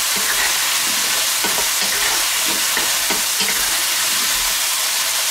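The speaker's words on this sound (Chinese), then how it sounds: "然后下入葱和这个青椒丁，再次翻炒均匀" Diced potatoes tossed in a wok with light and dark soy sauce, salt and chicken bouillon, giving a steady close sizzle broken by scraping stir-fry strokes, with no talking.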